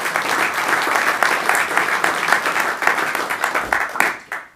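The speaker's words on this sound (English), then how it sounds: "That's another applause line right there." Dense, sustained applause from the audience at a Poolesville town commissioners meeting honoring a high school girls team's state championship, steady and fairly loud throughout before tapering off at the very end.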